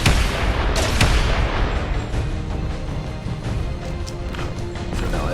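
A rocket launcher explosion in an engineering video game blasting a hole, a loud sustained roar of crashing impacts and rumbling debris that starts hard and slowly settles into a dense, noisy wash.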